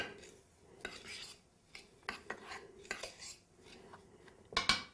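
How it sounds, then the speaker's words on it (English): A spoon scrapes and clinks against a bowl while dry meatball ingredients are stirred together, giving irregular close taps and rasps with a brighter clatter near the end, fairly quiet with no talking. "I'm just going to mix up all your dry ingredients"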